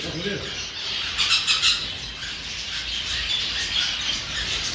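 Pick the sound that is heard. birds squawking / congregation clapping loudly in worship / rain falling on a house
birds squawking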